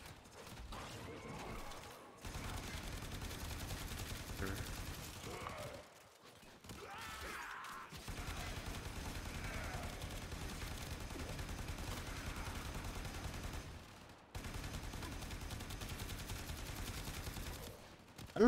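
Continuous automatic fire from the Telos Boltor rifle in the sci-fi shooter Warframe during a Steel Path mission, a steady, dense, fairly quiet stream of shots broken by a few short pauses.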